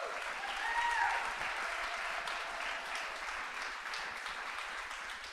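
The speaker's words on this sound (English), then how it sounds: "Let's offer some applause to Heart to Heart." A congregation at a church service applauds, a broad steady patter of many hands clapping, moderately quiet, with a brief voice early on.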